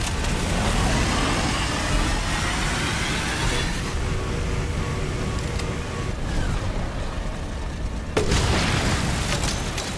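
Muffled, rumbling booms from grenade launcher rounds in Resident Evil Village played in VR, a steady low roar with a sharper blast near the end, no talking over it.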